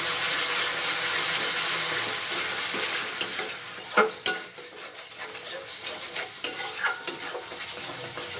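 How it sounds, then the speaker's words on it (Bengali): Fish curry masala with Kashmiri chili powder being stirred in a pan for doi dhela: a steady hiss of frying at first, then sharp scrapes and clinks of a metal spoon against the pan at irregular intervals, close up. "এবারে সমস্ত কিছু ভালোভাবে মিশিয়ে আরও 2-3 মিনিট ভালোভাবে নাড়তে থাকবো।"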